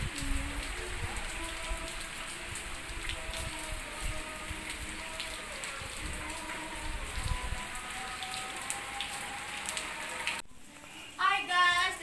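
Steady rain pattering on surfaces outdoors, a dense continuous hiss close by, which stops abruptly near the end as indoor rustling and water sounds take over.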